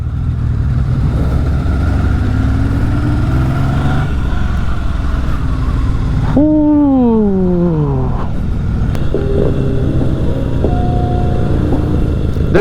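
Yamaha XS750 motorcycle ridden on a city street, a steady loud engine drone throughout with a rising then falling rev sweep midway, riding alongside other bikes.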